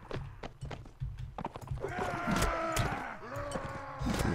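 A horse gallops in the video game Mount and Blade Warband, with rapid hoofbeats that grow into a dense, loud clatter alongside drawn-out whinny-like calls.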